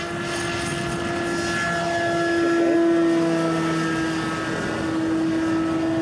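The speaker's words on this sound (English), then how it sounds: "bit of a crosswind, Ron. What's the short takeoff performance like?" An RC model airplane takes off in a crosswind, its electric motor giving a steady, loud, high whine that swells and dips slightly as the plane climbs, with no talking.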